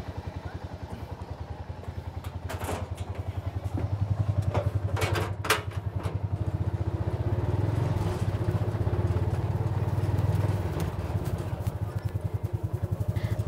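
A three-wheeled garbage collection motorcycle runs with a steady, rumbling mid-pitched engine and some clatter, close by and continuous throughout.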